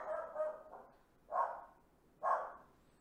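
A dog indoors barks at the mail carrier, giving a quick pair of barks followed by two separate louder barks spaced about a second apart, close and alone without talk.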